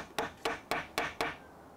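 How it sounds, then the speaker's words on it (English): Five evenly spaced hammer taps drive small inserts into a finished wooden toilet roll holder, each sharp knock close and clear with a short decay, the series ending in quiet. "now I can get these little inserts tapped into place with a hammer"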